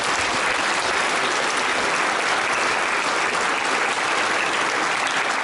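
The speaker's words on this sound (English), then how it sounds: "Let's give them all a big round of applause." Dense, steady applause from a crowd at a middle school open house and ribbon-cutting ceremony, a loud continuous wash of many hands clapping at once with no voices over it.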